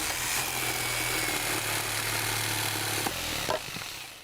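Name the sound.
jigsaw cutting wooden shelf boards in a cartoon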